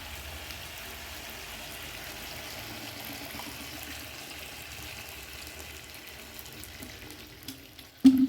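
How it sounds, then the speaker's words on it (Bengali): Water poured into a pan of cooking fish curry with raw pumpkin, papaya and potato produces a soft, steady splashing hiss over low sizzling, ending with a brief louder clunk. "এখন বন্ধুরা কষা হয়ে গেছে, এবারে এটাকে জল দিয়ে দেবো।"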